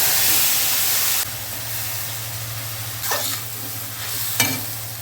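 Mustard paste hitting hot mustard oil already seasoned with black cumin seeds, used first for frying tilapia, sizzles with a steady close hiss while a spoon stirs it, scraping strokes rising briefly above the frying.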